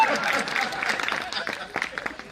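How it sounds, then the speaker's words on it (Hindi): Audience clapping at a Hindi poetry recital, a dense burst of applause from a crowd with voices mixed in, fairly close and steady over a couple of seconds. "कंजूसो ताली बजाओ"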